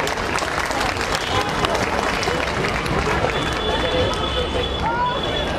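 Loud, close applause fills a school annual day gathering, a dense continuous rattle of many hands with crowd chatter and voices mixed in throughout.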